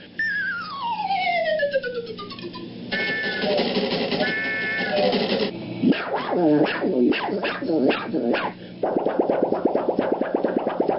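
A voice actor imitates a female dog with a rapid run of close, loud barks, yips and whimpers, starting with a falling whine and building into choppy repeated barking, with no other sounds behind it.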